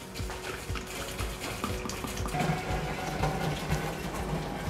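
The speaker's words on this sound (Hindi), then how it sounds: "पानी डालना है इसमें।" Water pours and splashes steadily into a soda machine, a continuous liquid rush with faint mechanical hum underneath and no talking.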